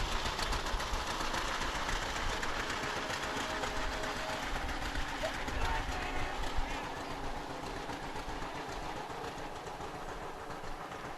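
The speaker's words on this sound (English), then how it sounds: "A 1939 Dodge truck is next." A 1939 Dodge truck rolls past in a town celebration parade, its engine giving a steady, fairly close rumble with a rapid ticking rhythm that eases slightly toward the end, with no voices.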